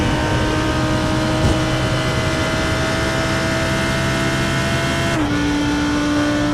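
Lamborghini Huracan GT3 with a naturally aspirated V10 in the iRacing sim at Watkins Glen, a loud sustained engine drone that climbs steadily in pitch as it accelerates, with a sudden shift in tone near the end.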